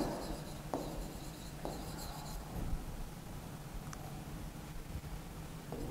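A pen or chalk writes numbers during a maths lesson, making faint scratchy strokes over a quiet room hiss, with a few sharp taps of the tip. There is no talking.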